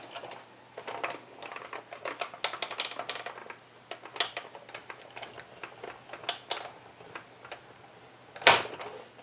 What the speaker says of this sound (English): I'll line that up again, and run it through the Big Shot to cut it